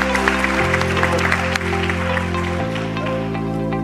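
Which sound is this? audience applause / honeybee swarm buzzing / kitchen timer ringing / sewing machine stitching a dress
audience applause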